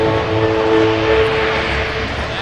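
Aircraft speeding up along the runway on a maximum performance takeoff at the Melbourne air and space show, a loud steady engine roar with sustained tonal hum, close and continuous throughout.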